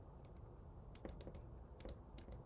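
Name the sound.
computer keyboard typing and mouse clicks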